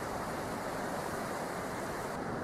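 A small river flowing out into the sea at a beach, a dense continuous rush of water with surf-like wash, steady and loud without pause.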